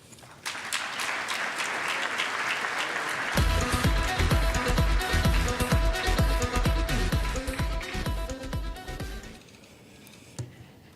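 Sustained applause from an audience at an awards dinner as the presenter of the Arab American of the Year Award is welcomed to the stage, steady and full for several seconds with music swelling underneath, then tapering off.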